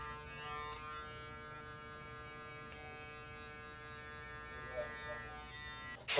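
A Rebel electric hair trimmer cuts a taper, giving off a steady, faint, close-up motor buzz that runs unbroken with no talking.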